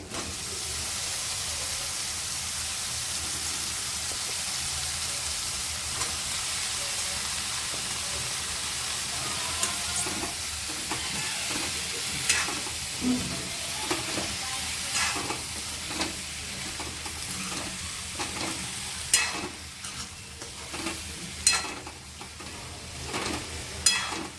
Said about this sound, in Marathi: टमॅटो परतून झाला आहे आणि आता त्यात वांगे टाकायचे